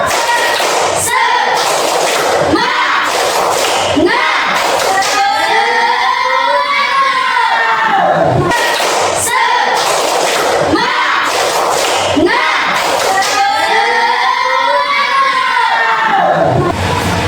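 A classroom of students stands and performs a tepuk semangat clapping chant, rhythmic group claps and thumps alternating with loud shouted chanting, energetic and continuous throughout.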